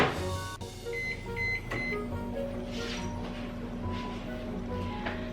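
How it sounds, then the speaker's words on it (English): A steady mechanical hum of a running microwave oven, with faint electronic beeps and tones over it and a few soft clicks, heard up close. "so into the microwave for the first 30 seconds."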